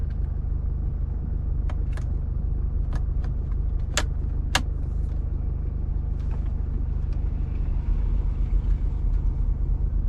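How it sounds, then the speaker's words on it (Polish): A Mercedes GLK engine idles with a low, steady rumble, a fault keeping it running when switched off, while a few sharp clicks and taps sound close by. "silnik pracuje."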